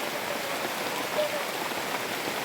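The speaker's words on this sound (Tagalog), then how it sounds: "lakas kasi ng ulan." Heavy rain pours steadily, a dense, even hiss of drops drumming on a surface with no break.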